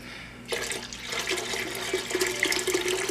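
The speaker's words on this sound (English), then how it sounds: "First thing we need to do is add water to a kettle." Water pours steadily into a kettle for home beer brewing after a brief quiet start, a continuous splashing gush that holds up close.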